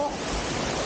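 The fast-flowing rapids of the River Teifi in Wales rush past in a steady, dense roar of water that stays even throughout the short moment.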